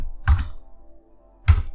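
Two separate keystroke bursts on a computer keyboard while a macro is recorded in Logitech G Hub, each a short cluster of clicks a little over a second apart, close and fairly loud, with no talking.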